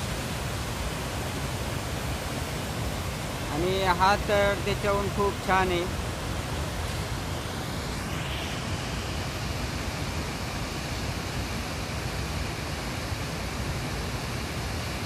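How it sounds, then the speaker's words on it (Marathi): A muddy rain-fed waterfall roars in a steady broad rush, loud and continuous, with someone briefly talking over it near the start. "कशा प्रकारे आपला धबधबा वरतून खाली येते बघा"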